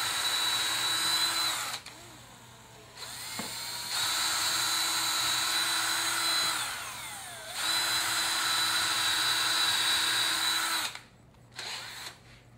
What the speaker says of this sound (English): Now we're going to pre-drill a small hole into each one of those.